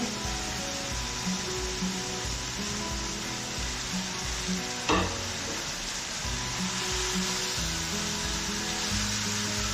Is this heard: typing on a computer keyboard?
no